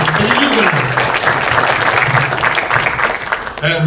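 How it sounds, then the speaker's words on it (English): Loud audience applause at a horror film premiere, thick continuous clapping with voices talking and cheering over it. "A big round of applause for Creative Studios."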